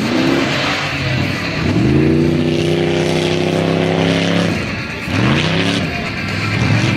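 Rock racing vehicle at the Nor Cal Rock Races revs hard climbing over rocks, engine surging up in repeated rising bursts with brief drops between, loud and close throughout.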